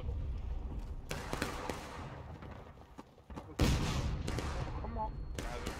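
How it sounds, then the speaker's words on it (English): Musket volleys in the Civil War game War of Rights, with heavy bursts of crackling fire at a distance and one loud, close volley midway, while voices murmur in the background. "No, they were shooting at us."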